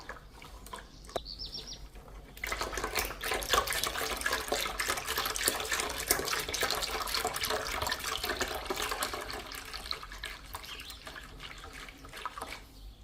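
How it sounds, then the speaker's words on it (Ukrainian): Milk poured from a container into a custard cream mixture for an apple Napoleon cake, a short clink then a continuous close splashing, gurgling stream that runs steadily for about ten seconds and tapers off at the end. "тепер виливаю остальне молоко"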